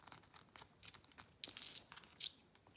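Coins being picked up and dropped into an envelope: light metallic clicks and jingles close by, a few scattered taps and then a brighter cluster of chinking coins, quiet and alone.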